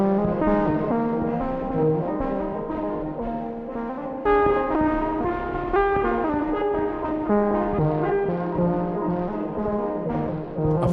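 Experimental electric guitar played through the Squig effects patch of the Ruins instrument by Slate + Ash, giving dense, sustained, shifting tones in a continuous loud passage with no talking.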